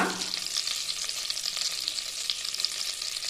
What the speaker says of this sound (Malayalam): ഇതാ ബട്ടറൊക്കെ മെൽറ്റ് ആയിട്ടുണ്ട് ഇനി ഇതിലേക്ക് ഒരു വലിയൊരു കഷ്ണം പട്ട